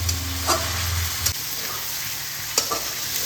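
Potatoes sautéed with spices in a pan for a drumstick curry, giving a steady sizzle under a few sharp utensil scrapes and taps. A low hum drops out partway through.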